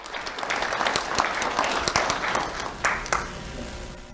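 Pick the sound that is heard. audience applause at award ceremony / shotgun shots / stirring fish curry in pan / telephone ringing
audience applause at award ceremony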